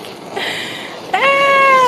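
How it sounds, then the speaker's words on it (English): A stray cat near a house meows once, loud and close, as a drawn-out rising then falling cry over a background hiss, with no talking. "I have a random stray cat that won't leave my house."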